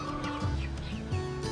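Chickens being collected from their coop give soft, low clucks and throaty calls in two short bursts, close by and unaccompanied by talk.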